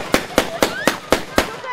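Six sharp gunshots fired in celebration at a circumcision feast in Sakarya, evenly spaced about a quarter second apart, loud and close, with faint crowd sound and a trailing ring after each bang.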